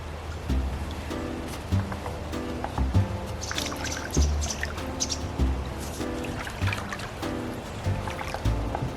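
Water sloshes and laps rhythmically in a hot tub as someone climbs in wearing an Edwardian bathing costume, close repeated swells and drips with no talk.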